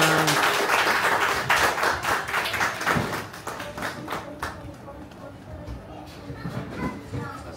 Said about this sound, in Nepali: एकचोटि सबैजनाले ताली चाहिँ बजाउनु।